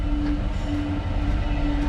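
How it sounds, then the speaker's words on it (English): A train rumbles past at close range in a rural valley on a hill walk around Edale, a steady loud low roar of wheels and wagons with a sustained tonal hum running through it, no talking. "oh, a train."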